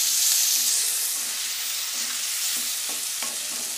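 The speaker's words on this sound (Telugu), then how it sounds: "ఈ వంకాయ ముక్కలు కూడా వేసి ఒకసారి కలిపెట్టండి." Brinjal pieces are stirred and fried in a hot pan for a brinjal and potato curry, giving a loud, steady sizzling hiss with occasional soft scrapes of the spoon, close up and with no voice.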